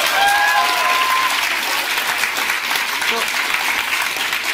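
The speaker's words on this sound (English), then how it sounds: "Can we give them a round of applause for that?" A crowd claps steadily and loudly for several seconds, a dense wash of applause that tapers slightly toward the end.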